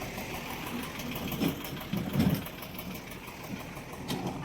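A tractor and a JCB digger working near a factory gate by the road, moving fill soil, a continuous mid-pitched engine drone with slight surges, heard from a short distance.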